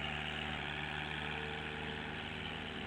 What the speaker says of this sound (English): It's a petrol engine.